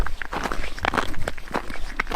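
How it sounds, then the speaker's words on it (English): Footsteps crunching on glacier ice on the Matanuska Glacier in Alaska, a quick series of close, crisp crunches in a steady walking rhythm. "the ice makes underneath your feet"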